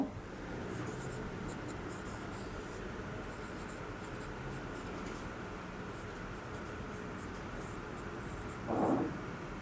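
A pen scratches across paper while a physics vector problem is written out by hand, producing soft, continuous strokes in short bursts close to the microphone, with no talking over it.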